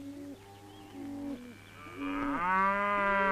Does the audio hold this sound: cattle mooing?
yes